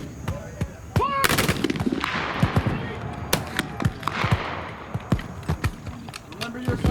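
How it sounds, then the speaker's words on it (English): Crimean-era Minie rifles fire at an outdoor shoot in Alberta: a sharp, loud volley cracks out, then scattered shots and echoing reports follow over several seconds. "We'll fire 3 volleys."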